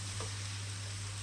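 Carrots frying in oil in a pan give off a soft, steady sizzling hiss, with a low hum running underneath the whole time.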